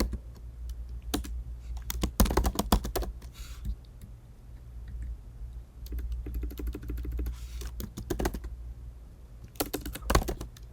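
Keystrokes on a computer keyboard come in quick bursts with short pauses, close and clear, while a web page navigation bar is built; nobody speaks.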